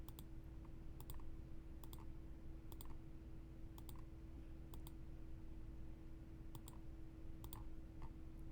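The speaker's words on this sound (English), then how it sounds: "All you can hear is the clicking a mile away." Computer mouse clicking, faint sharp clicks in small clusters and pairs repeating through a steady low hum and background noise, with no talking.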